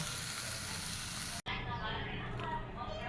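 Leafy greens (shak) fry in a pan with steady broadband sizzling throughout, briefly cut by a short gap near the middle, while a person talks over the cooking.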